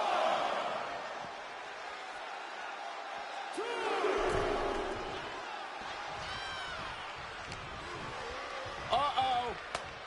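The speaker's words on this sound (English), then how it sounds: "Randy Orton feeding off this electric crowd" An electric arena crowd at a wrestling match in the WWE 2K26 video game, a broad swelling roar with cheers and whoops rising and falling, heard under a commentator's voice.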